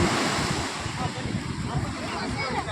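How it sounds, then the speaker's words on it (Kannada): Big ocean waves break on Panambur Beach in Mangalore, a loud, steady roar of surf with gusty wind buffeting the microphone throughout. "ದೊಡ್ಡ ಅಲೆ ಬರ್ತಾ ಇದೆ."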